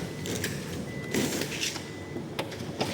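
Electric sliding door on a Hyundai H1 van, retrofitted with power operation and an anti-pinch sensor, heard as a mechanical whir with clunks and latch clicks as it moves, close by and fairly loud.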